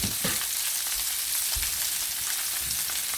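Salmon sears in butter in a hot pan, a bright steady close sizzle with faint spatters and pops, no voices.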